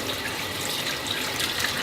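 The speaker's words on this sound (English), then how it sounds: "we still are gonna wash our hands" Hands are washed under a running kitchen tap while preparing sweet potato pie, a steady, close hiss of flowing water with no speech.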